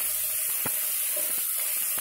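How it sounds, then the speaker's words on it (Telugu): Ginger-garlic paste frying with onions in hot oil for a chicken fry, a continuous close sizzle and hiss with occasional stirring scrapes and small pops. "అల్లం వెల్లుల్లి వేగుతుంది"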